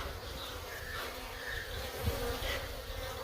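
Honeybees buzz steadily and close while a wild hive is being broken apart, a dense droning hum with a few louder passes near the microphone and no talk.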